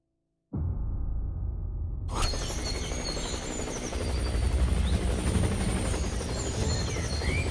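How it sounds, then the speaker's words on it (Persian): Helicopter engine and rotor noise begins abruptly and then jumps to a loud, dense, steady roar that fills the rest of the stretch, with no voices. "یک هلیکوپتر نه، 3 هلیکوپتر باید اونجا بره."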